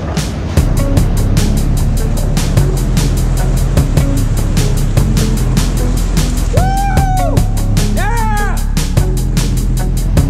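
A vehicle driving into the Wickes Tunnel gives a loud, steady rumble under a regular, rapid ticking beat. Brief tonal squeals rise over it, and voices talk along the way.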